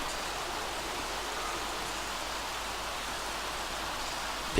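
Continuous video game rainfall rushes evenly throughout, a broad steady hiss like a heavy downpour, with no talking.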